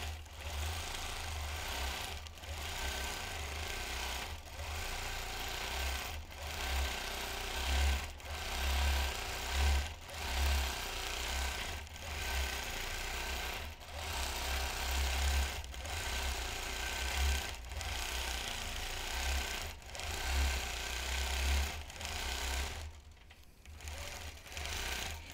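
A vintage Gem quilting machine stitches a quilt, its motor humming steadily with a regular needle chatter, the pace swelling and easing in waves, then briefly dropping near the end.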